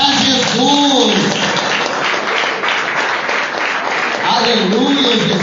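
Church congregation applauding steadily throughout, a dense continuous wash of clapping with a sung or spoken voice rising over it at the start and end.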